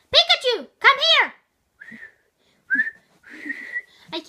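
A person attempts a human whistle, producing a few short, thin whistled tones after a burst of high, animated voice at the start, with quiet gaps between.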